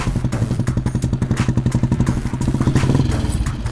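Royal Enfield Bullet motorcycle being ridden, its engine thumping in a loud, rapid, steady rhythm close by, with a clattering mechanical rattle over the beat.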